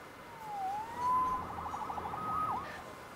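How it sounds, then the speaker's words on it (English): Police siren in the Marvel's Spider-Man video game, a wailing tone that sweeps up and down and holds steady pitches for about three seconds at moderate level, with no talk over it. "Saved by the siren."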